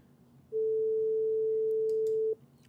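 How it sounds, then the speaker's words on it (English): A steady pure sine wave test tone from the Cubase test generator, sounding alone and steadily for about two seconds before cutting off, over a faint background hiss. "Just find a test generator that creates a sine wave."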